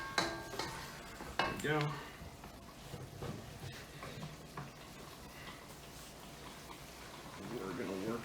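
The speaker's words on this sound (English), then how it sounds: "Mapo Tofu boiling away over here" Mapo tofu bubbling and sizzling in a pan with stirring clinks and scrapes, soft and close, while a person speaks briefly.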